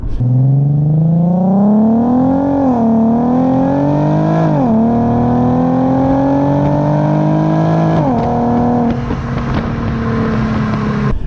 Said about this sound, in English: it's the way this car sounds